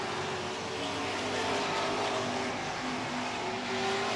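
Super trucks race on an oval track, their engines roaring loud and continuous with droning tones as the pack of vehicles pushes through the turns.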